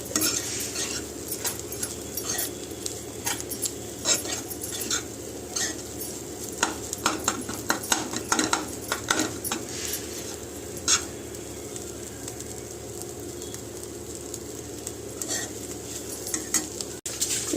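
Egg bhurji frying in a pan, stirred without pause: a continuous close sizzle broken by frequent sharp spatula scrapes and taps against the metal, lasting the whole stretch with no voices.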